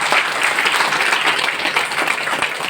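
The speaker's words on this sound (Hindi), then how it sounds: "ताली तो बनती है ना।" Audience applause at a live talk: a steady, dense wash of many hands clapping at close range, sustained evenly throughout with no voices over it.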